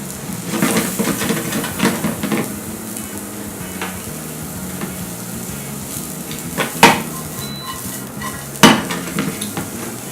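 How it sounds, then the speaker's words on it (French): Mushrooms and shallots frying in a pan for a festive quail dish, a steady sizzle broken by utensil scrapes and stirring, with a couple of sharp clanks of a spatula or pan standing out. "nous allons faire poêler les champignons et les échalotes"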